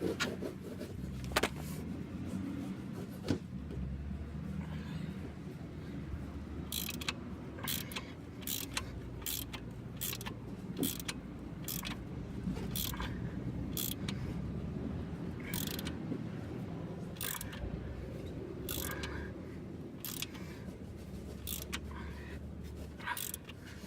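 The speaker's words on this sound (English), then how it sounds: "Handy tool, ratcheting wrenches." A ratcheting wrench turns a bolt by hand on a Jeep Cherokee XJ during a rear lift block install, giving repeated short clicking bursts over a steady low background hum.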